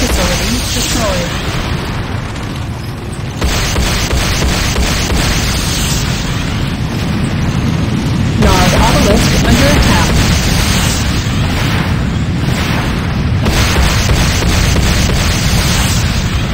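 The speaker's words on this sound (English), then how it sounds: "Nod repair facility destroyed." Buildings blowing up in Command & Conquer: Renegade, with a dense, continuous roar of booms and bursts layered across the whole stretch, loud and sustained, and a voice talking over the blasts.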